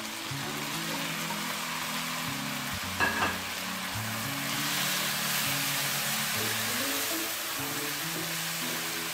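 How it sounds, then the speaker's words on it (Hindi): Tenderised meat sizzles steadily in hot oil with whole spices for Bombay biryani, a continuous close frying hiss with a brief clink of a utensil near the start, no voices. "अब हम इसके अंदर जो गोश्त हमने गला के रखा था वो सारा शामिल करेंगे।"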